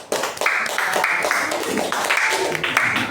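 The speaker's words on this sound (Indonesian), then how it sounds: "Aplaus." Audience applause in a classroom during a teacher-certification performance test, following group wayang puppet presentations; a dense, steady wash of clapping lasting about three seconds, with some voices mixed in.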